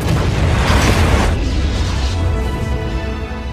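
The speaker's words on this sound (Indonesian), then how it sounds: "sehingga ledakan besar pun terjadi dan menghancurkan The Hive serta membunuh Alicia." A large explosion destroys The Hive in a zombie film scene, a loud, dense rumbling blast that fills the whole stretch and slowly eases without fully dying away.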